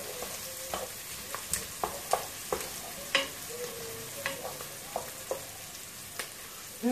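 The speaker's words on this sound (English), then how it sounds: "Let it fry a little bit." Garlic frying in a pan for meat pies with mushrooms, a steady soft sizzle broken by repeated clinking scrapes of a utensil stirring at irregular intervals, close and moderate in level, no voices.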